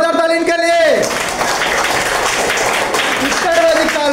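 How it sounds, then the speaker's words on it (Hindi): Classroom students break into a short burst of clapping for a correct answer, a dense patter of applause for a few seconds, framed by a teacher speaking before and after. "वेरी गुड, जोरदार ताली इनके लिए।"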